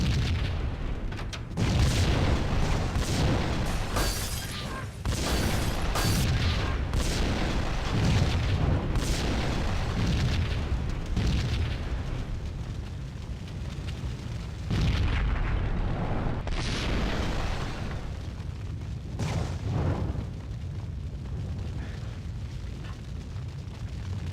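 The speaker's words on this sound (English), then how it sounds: "I just got hit by a stupid fucking propane tank" A propane tank explodes in the video game Max Payne, with heavy booms and bursts over a long, dense stretch of rumbling blast noise that stays loud throughout.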